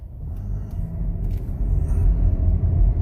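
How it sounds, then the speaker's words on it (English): A Chevrolet Equinox LT Turbo with a 4-cylinder engine pulls away from a stop sign after braking. Its low road rumble and engine drone build steadily in loudness as it accelerates. "Accelerate again."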